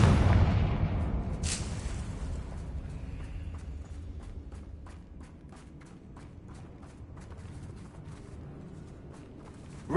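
Confringo fire spell blasting in Hogwarts Legacy: a loud booming explosion up front that rumbles and slowly fades, followed by scattered crackles and debris ticks, no talk.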